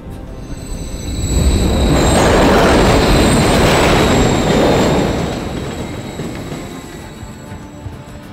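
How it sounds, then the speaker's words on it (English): A train passes in Call of Duty: Modern Warfare III (2023), swelling to a loud roar with screeching high wheel tones, then fading away as it moves off. "They're assembling a turret. Another train coming."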